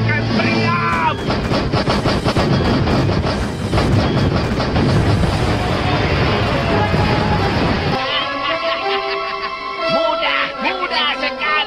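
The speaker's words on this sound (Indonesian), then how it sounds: "Tembakan meriam." Loud cannon fire and blasts in a Doraemon pirate-ship cartoon, a dense run of booms and crashes for about eight seconds, then a lighter tail of cartoon sound effects with talk and music underneath.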